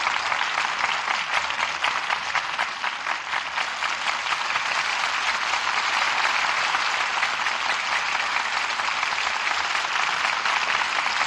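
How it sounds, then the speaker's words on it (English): A studio audience at a Lux Radio Theater broadcast applauds the stars of a radio play, a dense, steady clapping that fills the whole stretch at an even level with no voices over it. "Well-deserved applause for our stars who have made the suspects so exciting an experience."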